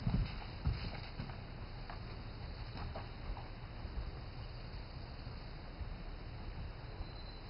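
Horses' hooves clip-clop faintly on the ground among other horses in a riding area during saddle training. Soft, irregular thuds come through steady background noise.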